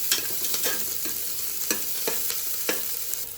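Small onions sizzle in hot ghee as a spoon stirs them, steady frying hiss with a handful of distinct stirring scrapes spread across the stretch, close and fairly loud.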